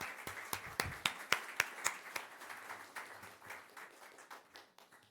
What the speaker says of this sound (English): Let us just give them another round of applause because that was an amazing presentation